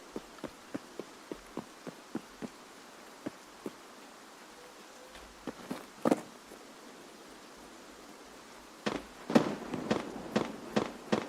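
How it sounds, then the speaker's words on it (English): Sharp gunshots in the video game Escape From Tarkov crack out as a string of short reports, sparse single shots early, then a denser burst of louder cracks near the end, heard at a distance with no talking. "But we did just hear a gunshot."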